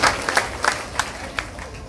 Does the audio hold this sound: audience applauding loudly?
yes